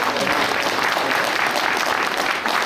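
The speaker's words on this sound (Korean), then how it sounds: "박수 한 번 더 치세요." A live audience at a forum on peaceful unification and national security applauds steadily and loudly. Dense clapping continues without a break and no voices stand out over it.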